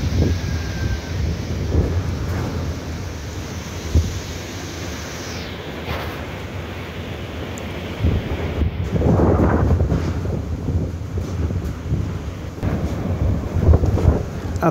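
Big waves and strong wind at the shore during Typhoon Ferdie: a continuous roar of surf with heavy wind buffeting on the microphone, swelling louder in bursts, no talking.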